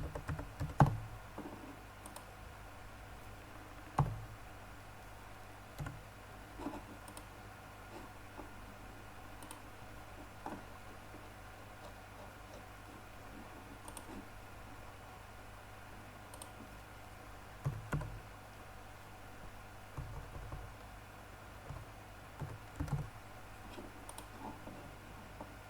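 Quiet, sparse clicks of a computer keyboard as a city name is typed, scattered keystrokes in small clusters with long pauses between them, close and faint with no talking.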